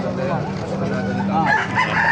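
Roosters crow at a busy chicken market in Baliuag, Bulacan, several loud nearby crows overlapping with clucking fowl and crowd murmur underneath.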